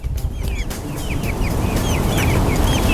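Several gold-laced Brahma chickens clucking and chirping nearby, soft overlapping calls repeating over a busy, rustling background.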